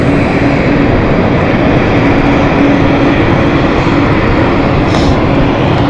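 Aircraft engine noise near London City Airport, a steady, loud, continuous roar that holds for the whole stretch as planes line up to land.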